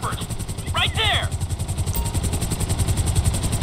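Helicopters flying in the video game GTA 5, a loud, steady rotor chop with fast rhythmic thumping, with a shouted voice briefly on top.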